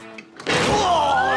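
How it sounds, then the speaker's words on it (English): A door is kicked in for a cartoon, a sharp heavy thud after a brief quieter lead-in, followed by a sustained bright whistling tone that rises slowly. "I'm the one who kicks in the doors."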